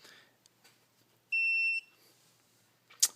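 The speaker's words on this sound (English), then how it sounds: "after it beeps, it's asking for the second point" A single steady electronic beep from a YSI Multilab 4010-2 pH meter during calibration, clear and sustained for about half a second, in a quiet room, followed by a short faint click.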